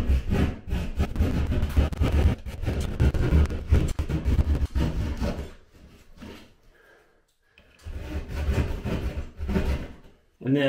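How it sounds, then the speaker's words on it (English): Knife pushed upward through ceiling drywall and rocked back and forth, a close rasping sawing scrape in repeated strokes that stops briefly and then resumes, with no talking. "just pushing with some gentle pressure upward and rocking it back and forth, because I don't want this knife to break off the drywall that's on the ceiling"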